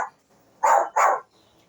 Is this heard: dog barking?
yes